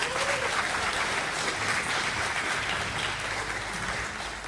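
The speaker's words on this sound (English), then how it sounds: "Give yourselves a round of applause." Crowd at a conference opening plenary breaks into loud, dense applause, a continuous roar of clapping with no speech over it, fading slightly toward the end.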